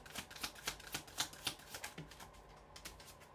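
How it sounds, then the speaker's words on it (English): Tarot cards are shuffled by hand in quick, fairly regular riffling bursts, soft and close, trailing off toward the end with no voices. "Give me some cards for Gemini's person."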